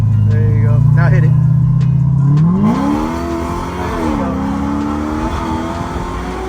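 A supercharged C6 Chevrolet Corvette accelerating hard, the engine note loud and near, climbing steeply in pitch through the revs and then holding a high drone, with voices speaking over it.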